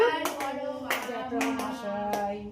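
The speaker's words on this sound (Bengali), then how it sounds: "হাততালি দাও হাততালি দাও" Hands clap at a family birthday celebration, about five separate sharp claps spread over the moment, mixed in with nearby voices singing.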